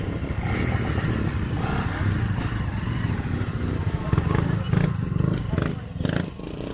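Motorcycles rumble and rev past nearby on a road at Bitbit Bridge, Norzagaray, Bulacan, Philippines, engine noise rising and falling, with people talking over the traffic.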